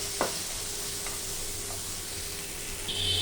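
Tomatoes sizzle steadily in a hot pan while being fried for a pointed gourd bharta, a constant frying hiss with a few soft clicks and stirring taps near the start.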